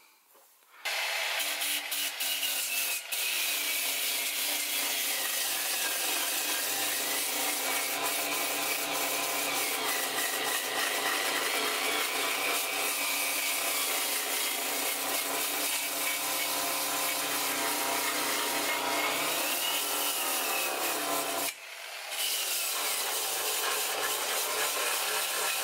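Abrasive sanding strips rust off an Audi A3 car body, giving a steady, loud, continuous grinding rasp that runs almost unbroken, with one brief dip near the end.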